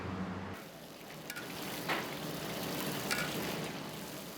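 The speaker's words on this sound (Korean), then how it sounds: "재료란 재료는 모조리 기름에 튀기고 있다." Ingredients deep-frying in oil at a Chinatown eatery in Malacca, a dense continuous sizzle and crackle with faint clinks of stirring utensils, close and steady throughout.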